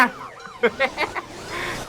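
A police car siren in the Motor Town driving game wails in a rising and falling tone at moderate volume, strongest early, with short bursts of a voice over it.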